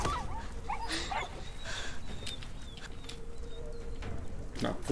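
A dog whimpers and yips in the video game Beyond Two Souls, over a loud, busy game soundscape with bird-like chirps and rustling throughout.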